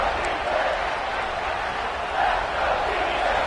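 Stadium crowd roaring at a Clemson versus Texas A&M college football game, a steady dense wash of cheering that swells slightly toward the end, with a commentator's voice faintly under it.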